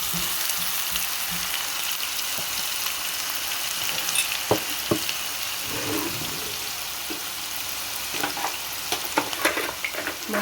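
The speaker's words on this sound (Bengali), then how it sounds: "মাছের যে ভাজা তেলটা ছিল সেই তেলটা আর একটু সামান্য তেল অ্যাড করে এখানে দিয়ে দিচ্ছি কাটা পেঁয়াজ" Chopped onion fries in leftover fish-frying oil topped up with a little fresh oil, making a close, continuous sizzle with scattered crackles and stirring scrapes throughout.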